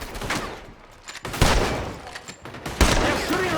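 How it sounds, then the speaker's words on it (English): Gunfire in the Red Dead Redemption 2 video game: loud, close volleys of shots crack out in three main bursts, with scattered smaller pops between them. "They're shooting right at me!"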